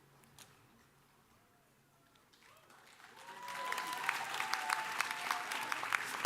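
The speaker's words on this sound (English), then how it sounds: "I'm glad that you all had a good clap" An audience at a culinary school commencement breaks into applause, a quiet scatter of claps swelling into steady, full clapping from a large crowd in a hall.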